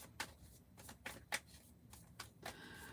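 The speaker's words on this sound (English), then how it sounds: "I'll just shuffle the deck and whatever comes out, I'll just put it out" A deck of tarot cards being shuffled, with quiet riffling bursts and soft flicks repeating in an irregular rhythm, close and faint with no one talking.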